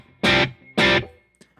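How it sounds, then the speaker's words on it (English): Electric guitar through an HX Stomp amp model with ambience reverb: two loud distorted chord strikes, each held briefly and cut off, then a faint short stab, with a light room tail after each. "there's a little bit of ambience that I've dialed in here"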